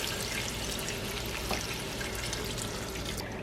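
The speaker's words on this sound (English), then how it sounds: "Alright, so now I'm going to add in the chicken broth." Chicken broth pours steadily into a soup pot, a continuous watery splash and trickle that stays fairly close and even throughout, with no talk over it.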